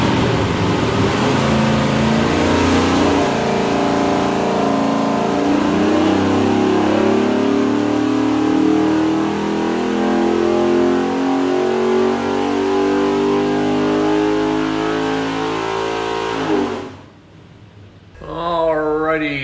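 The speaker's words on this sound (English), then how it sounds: "Go under and make a run, show you what it does." Holley Hi-Ram 427ci small block Ford making 611 hp on a dyno, roaring loudly as it climbs steadily through the revs in a long pull, then cutting off and blipping once briefly as it settles.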